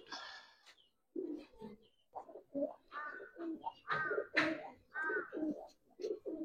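Giribaz and colored pigeons, including spectacled birds, coo in a series of low murmuring calls close by, with sharper chirps mixed in and short pauses between bursts.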